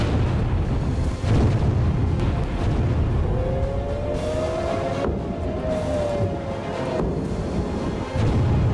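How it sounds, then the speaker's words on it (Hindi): Missile explosions during strikes on Iran, a deep continuous rumbling roar with low booms around the one-second and eight-second marks, steady and loud throughout without any voices. "मिसाइलों की गड़गड़ाहट और बारूद के धुएं के बीच ईरान आज सिसक रहा है।"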